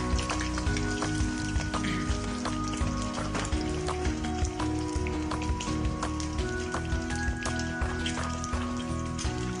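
Eggs fry in hot oil in a kadai pan for an Assamese egg curry, giving a dense continuous sizzle and crackle with small spattering pops throughout, close and alone with no talk.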